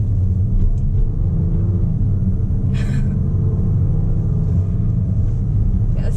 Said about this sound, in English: So I'm gonna put the car back into sport mode.